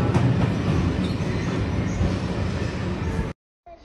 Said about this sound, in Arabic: شوفوا هذا قطار نقل